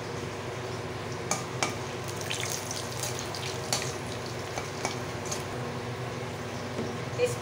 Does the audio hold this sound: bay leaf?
yes